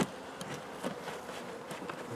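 Honeybees robbing honey from frames left in a hive box make a steady, dense buzzing hum of many insects close by, with individual bees flying past, and no voices.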